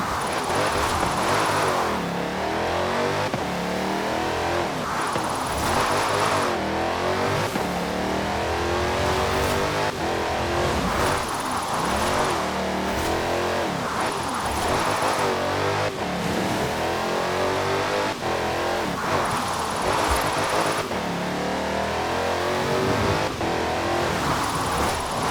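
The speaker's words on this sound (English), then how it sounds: "Now let's really shred those tires." Car engine revving hard and tires shredding in Forza Horizon 4 racing game, a loud continuous roar with repeated rising rev surges and squealing tire screech, steady and close throughout, no talk.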